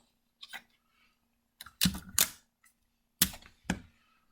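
Short crackling rips of sticky tape being pulled and pressed down onto paper strips come in several separate bursts, close by and fairly quiet, with no talking.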